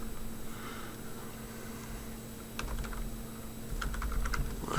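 Rapid clicking of a computer keyboard as a file name is typed, in two short bursts of keystrokes that come close and fairly clear over a steady low room hum.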